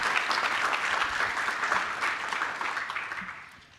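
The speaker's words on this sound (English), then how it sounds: "can I get a quick round of applause to show our appreciation?" An audience at a talk on securing self-custody in America claps in a steady, dense round of applause that holds for several seconds and then begins to taper off, with no voices over it.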